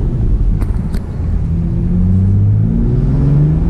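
A car accelerates hard with a loud, close engine rumble and rising revs, with a couple of quick thumps early on as the wheels hop.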